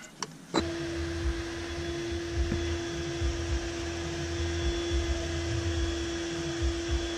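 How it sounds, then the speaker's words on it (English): A vacuum cleaner running steadily in a garage during car engine repair work, a continuous loud whine with a clear tone that holds level throughout after a couple of brief clicks at the start. "don't mind the vacuum right now"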